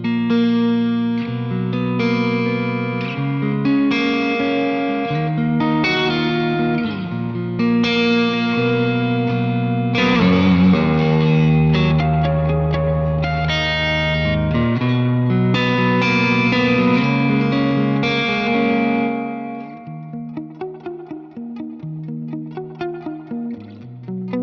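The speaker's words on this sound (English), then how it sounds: "the third one is very similar, but way longer. It's more like an ambient kind of reverb" An electric guitar played through a UAFX Astra ambient reverb pedal, sustained chords and picked notes swelling into long, washy tails that ring out and decay slowly after playing stops.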